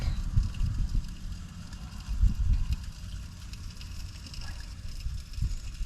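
Gusty outdoor wind buffets the microphone in uneven rumbling surges while blackened and dill kokanee salmon is grilled, loud and close with no speech.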